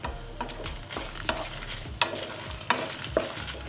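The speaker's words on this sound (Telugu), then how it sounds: "ఇప్పుడు మనం ఇందులో 20 ఎండుమిరపకాయలు వేసుకొని కాసేపు వేయించుకుందాం." About twenty dried red chillies fry in a pan with garlic for a garlic chutney, giving a soft, steady sizzle broken by scraping stirs and occasional clinks of a spoon against the pan.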